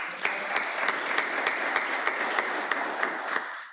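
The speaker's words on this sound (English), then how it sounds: "Can I get a round of applause for our panelists today?" An audience applauds panelists at a business session, a steady wash of clapping with distinct individual claps, moderately close, fading out at the end.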